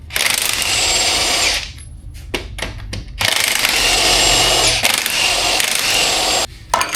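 A power tool whirs in two loud, close bursts as lug nuts come off the front wheel of a 2006-2010 Jeep Commander, with a brief pause of ratcheting clicks between them.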